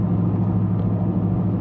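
A Lexus LS430 engine idling with its exhaust cut off just past the gearbox, a steady, loud low rumble with an even drone and no voices.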